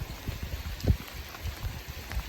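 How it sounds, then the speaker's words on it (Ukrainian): Steady patter of rain falling, a dense low rumble of drops with a few louder splashes, fairly close and continuous, no voices. "Дощ не припиняється. Дощ падає"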